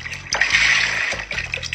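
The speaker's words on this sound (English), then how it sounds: "Water." Water poured into a pan of browned taco-seasoned meat while cooking, a sizzling rushing pour starting and stopping in bursts, close and fairly loud.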